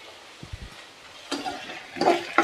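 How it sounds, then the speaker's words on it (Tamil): Vegetables sautéing in oil in a pan for Tirunelveli idi sambar, with soft low stirring knocks followed by short bursts of sizzling as the pieces are turned, close and fairly quiet. "எண்ணெய் ஊற்றி இப்போ லேசாக வதக்கிக்கலாம்"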